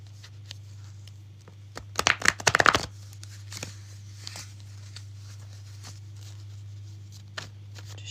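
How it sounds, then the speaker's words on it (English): A deck of cards is shuffled by hand during a full moon candle ceremony, a brief soft riffle of papery flutters over a constant low hum, followed by scattered light taps and handling. "Just shuffling the cards."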